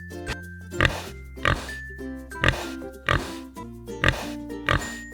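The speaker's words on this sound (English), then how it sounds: "Pigs are full of personality, using a range of grunts and oinks to express joy, surprise, or even curiosity." A pig oinks and grunts in a series of short snorting bursts, roughly seven evenly spaced calls, close and clear over a faint steady background.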